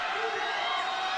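A basketball arena crowd at an NBL President's Cup game reacts to a missed free throw with a brief, dense roar of voices and jeers, steady and close throughout.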